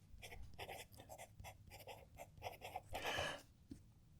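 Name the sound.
PenBBS 268 fountain pen writing on paper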